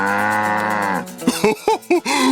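Voices imitate a cow: one long, drawn-out low moo, followed by several shorter, bouncing moo calls in quick succession, all close and clear.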